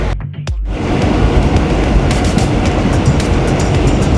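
A passenger train runs on rails in Thailand, a loud, steady broadband rumble and rattle after a brief quieter moment at the start, with faint clicking over the noise and no talk.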